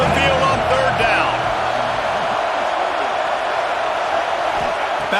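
Home crowd noise in College Football 26 on PS5 Pro fills the stadium on a third-down defensive stand, a steady loud roar with cheers and whoops throughout.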